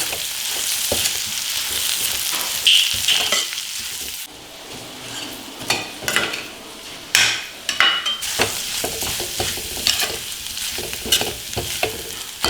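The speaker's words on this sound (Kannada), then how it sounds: "ಈಗ ಈ ಮೊಟ್ಟೆನ ಹಾಕ್ಕೊಂಡ್ಬಿಡೋಣ ಇದನ್ನು ಒಂದು ನಿಮಿಷ ಈ ಥರ ಮಿಕ್ಸ್ ಮಾಡ್ಕೋಬೇಕು" Garlic egg fry being stirred in a hot pan, the spatula scraping and turning the eggs through a steady sizzle of frying, with clinking strokes recurring in an uneven rhythm close by.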